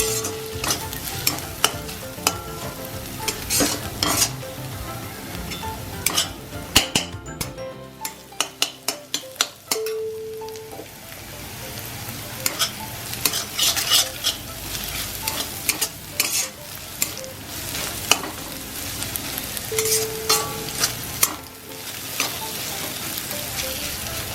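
Ginger and garlic fry in a pan while a spoon stirs them, producing a steady sizzle broken by repeated scraping and clinking strokes against the pan, close and moderately loud, with one brief quieter pause.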